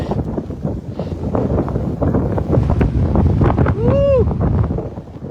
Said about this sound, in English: look at the size of the waves breaking out there